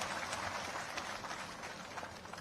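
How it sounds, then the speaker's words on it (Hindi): Crowd at an election rally in Mungaoli breaks into applause, a broad, continuous wash of many hands heard from a distance, fairly faint and even, with no voices standing out. "तालियों की गड़गड़ाहट से धन्यवाद अर्पित करें।"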